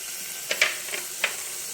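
Onion, mint leaves and green peas frying in a pan for quinoa vegetable egg pulao give a quiet, steady sizzle, with a few soft stirring clicks.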